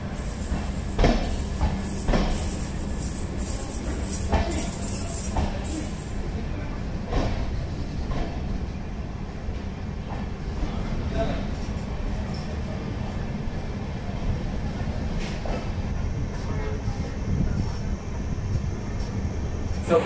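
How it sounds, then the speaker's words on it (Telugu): The Okha–Puri Express, with new LHB coaches, runs after leaving Dwarka station toward Jamnagar, heard from inside a coach. A loud steady rumble with rhythmic wheel clicks and rattles continues for the whole stretch. "సో ట్రైన్ ద్వారకా నుండి డిపార్ట్ అయింది అండ్ ప్రజెంట్ అయితే రైట్ టైంకి ట్రైన్ డిపార్ట్ అయింది"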